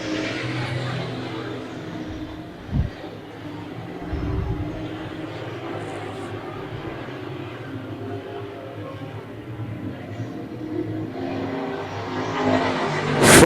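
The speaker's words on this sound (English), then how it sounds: "Ronnie Watford comes out of the corner out in the lead." A pack of Canadian Modified race cars roars around Brighton Speedway in a steady, dense engine drone, swelling as cars pass close and rising sharply at the end.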